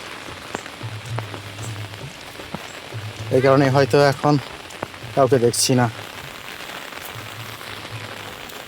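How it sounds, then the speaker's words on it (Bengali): Steady rain falls across a village, a constant close hiss on the ground that continues throughout, with someone speaking briefly over it midway. "এখন যেহেতু বৃষ্টি আছে, দেখা যায় খানিকক্ষণ বাদে এই বৃষ্টিটি থেমে যাবে"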